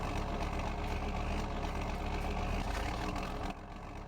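A large tractor engine left idling on a farm in Farming Simulator 19, a steady, low diesel rumble held at an even level throughout, with a slight drop in loudness at the end.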